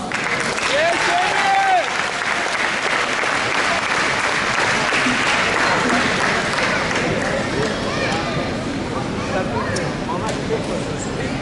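A large audience at the opening ceremony of a Sydney volleyball tournament gives a long, loud round of applause, a continuous roar of clapping with a voice briefly heard over it.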